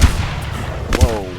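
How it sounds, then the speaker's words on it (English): Cannons fire in the video game Valor Mortis, two sharp, heavy booms about a second apart, with a voice talking over the battle. "Those are fucking cannons, not bullets."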